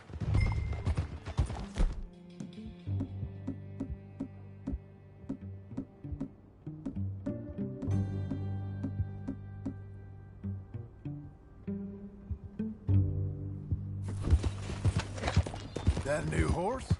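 Horse hooves clopping in a steady rhythm while riding in Red Dead Redemption 2, close and continuous under music and bursts of louder activity at the start and end, with no one speaking.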